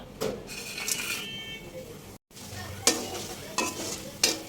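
Noodles sizzle in hot oil in a pan while being stirred, a steady close frying hiss broken by sharp spatula scrapes and clicks, with one brief dropout and no talking.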